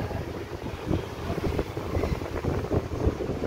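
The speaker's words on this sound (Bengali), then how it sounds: "হাওয়াও দিচ্ছে ভালো, ভীষণই হাওয়া দিচ্ছে।" Strong wind roars in low, buffeting gusts across the microphone, continuous and loud, with no voices.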